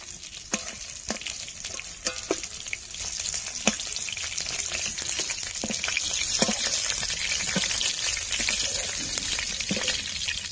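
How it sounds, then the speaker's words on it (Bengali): Tangra fish frying in a pan, a continuous bubbling sizzle with scattered pops and clicks of the fish being turned, building slightly louder toward the end. "মাছ ভাজা হয়ে গেছে, এখন নামিয়ে দেব।"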